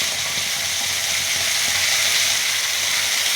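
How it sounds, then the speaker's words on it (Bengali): A ginger, cumin and chili spice paste fries in a pan with a steady, loud, broadband sizzle and hiss that runs without a break and with no speech. "মশলাটাকে ভাজতে হবে তো, মশলাটা"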